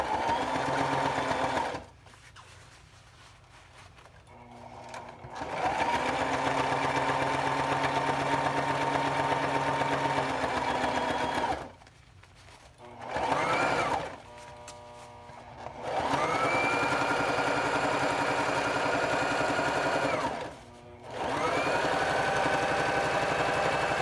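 A sewing machine stitches fabric around a foam pillow insert in long, steady whirring runs, stopping briefly between passes before starting up again, close and loud with no talking.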